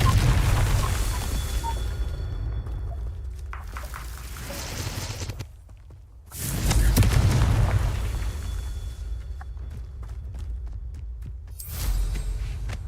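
Three loud Confringo blasting-spell explosions in Hogwarts Legacy, each a deep boom with a long rumbling tail, spread a few seconds apart, with a faint crackle between them.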